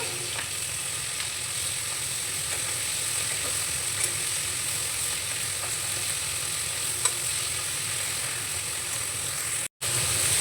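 Flipped prawns fry gently in oil, producing a continuous close sizzle with occasional faint clicks of stirring, steady in level apart from one short gap toward the end.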